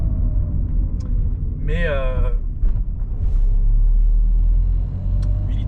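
A 2001 Peugeot 306 with a 1.8-litre 16-valve XU engine drones and rumbles steadily from inside the cabin while driving, a low continuous hum with a brief spoken word over it.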